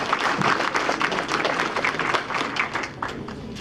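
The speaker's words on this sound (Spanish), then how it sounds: "Solicitamos de manera encarecida un fuerte aplauso" Audience applause at a formal Spanish-language conference on transparency law, dense clapping throughout that stays loud and even, then thins slightly toward the end.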